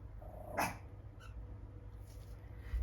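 One sharp bark from a dog rings out early and close, followed by a faint second yelp, over a quiet low background hum.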